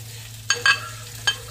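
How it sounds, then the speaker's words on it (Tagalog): Garlic and onion sauté in a hot pan, a low frying hiss broken by three quick scraping stirs close by, with no talking. "Lagay na natin yung ating garlic. Sunod natin yung sibuyas."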